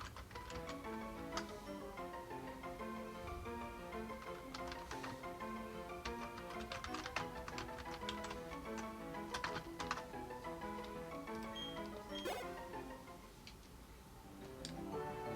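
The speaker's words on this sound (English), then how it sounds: "I wonder how bad that typing sounded on screen." Quick, irregular clicking of computer keyboard keys, fairly faint, running alongside layered melodic tones from Pokemon Platinum game music.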